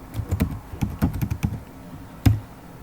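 Keys tapped on a computer keyboard during C# game programming, an uneven burst of about nine or ten close, crisp clicks with short pauses and one firmer keystroke near the end, with no voices.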